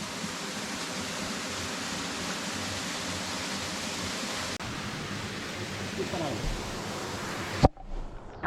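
Cascada Doña Elba, a waterfall near the Casita de Cristal in the Altas Cumbres of Córdoba, gives off a steady broadband roar of falling water that holds even and close for most of the clip, then stops abruptly at the end, followed by brief faint sounds.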